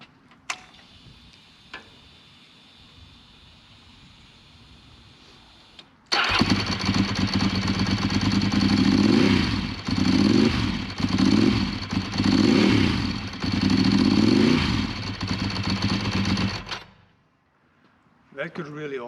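A Ducati 916 SPS motorcycle engine fires up after a quiet ticking lead-in, then runs loud and close, revving in five or six rising blips before cutting off; a voice speaks briefly over the idle.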